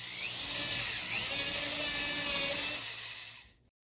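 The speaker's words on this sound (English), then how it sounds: "So I'm going to be depressing the drill button here, and it's going to spin the drill" A handheld drill spins up and runs continuously at high speed, standing in for a machine spindle cutting. The steady, bright whine holds for a few seconds with slight wavering, then cuts off abruptly into silence.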